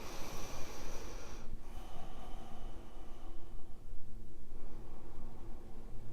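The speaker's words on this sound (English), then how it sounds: "when I breathe in, I breathe into my hands" Audible inhalations through the nose from someone breathing diaphragmatically while seated, soft airy snorting breaths close up, repeating over several seconds against a faint noisy background.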